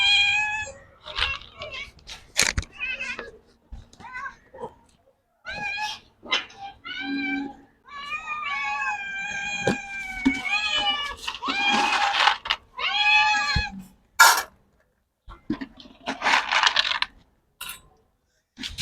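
Repeated meowing from two cats, a Persian and an ordinary Indian street cat, with clear tonal calls spread through the stretch, some overlapping, and occasional short clicks and clatter nearby; a voice speaks briefly between the cries.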